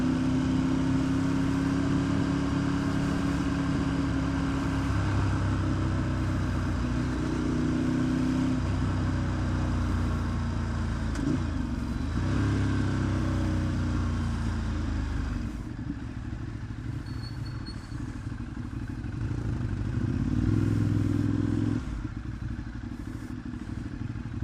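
A motorcycle rides at speed with a steady engine drone, wind rush and shifting revs, as a big BMW GS is followed on the road; no talk.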